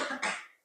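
A single short cough from someone with a cold and cough, close and fairly quiet, a brief double burst that fades out within a second.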